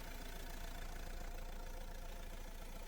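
A 2013 Renault Grand Scenic 1.6 diesel engine idles steadily with a low, even rumble and faint knocking texture, unchanging and close by, with no voices.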